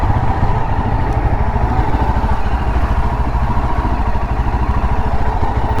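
A Yezdi Adventure motorcycle engine runs steadily, a loud, close, continuous low thrum with an even throb and no pauses.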